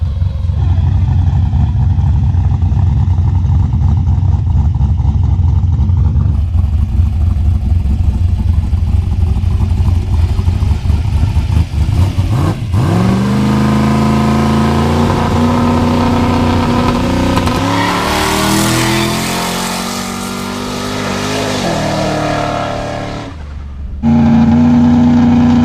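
A turbocharged small-block Ford Mustang drag car on slicks idles with a loud, lumpy rumble, then launches into a screaming full-throttle run in Mexico. The engine pitch climbs steadily through the gears before it backs off near the end.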